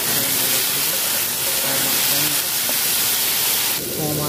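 Potatoes and green chillies fry in hot oil in a wok, giving a loud, dense, continuous hiss and sputter that stays steady throughout, with faint voices underneath.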